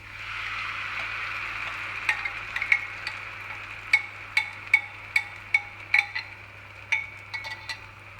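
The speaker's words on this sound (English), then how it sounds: "Alright, so now we want to add our satay mixture." Chicken sizzling steadily in a pan with satay nut mixture, a constant frying hiss punctuated by a series of sharp clinks as a utensil stirs and scrapes the pan, no talking.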